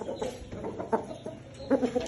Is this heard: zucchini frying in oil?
no